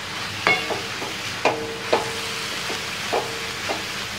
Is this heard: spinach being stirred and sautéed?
yes